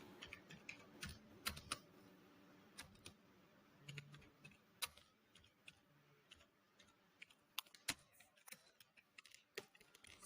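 Scattered keystrokes on a computer keyboard click close and quietly at an irregular pace, with short pauses between bursts, in a near-silent room.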